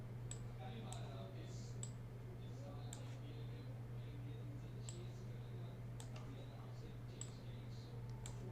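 A computer mouse clicks in scattered single and double taps, crisp but faint, over a steady low electrical hum with no talking.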